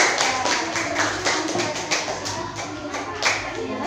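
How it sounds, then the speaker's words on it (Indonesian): A class of students claps hands together in a classroom, a fairly steady patter of overlapping claps with a few louder taps, fading slightly toward the end. "Oke, tepuk tangan ya."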